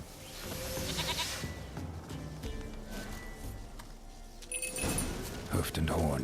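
A goat bleats several times in The Witcher 3, the calls rising toward the end over game ambience, someone speaking through much of the scene.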